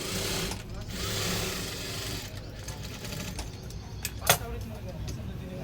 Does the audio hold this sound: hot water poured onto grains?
no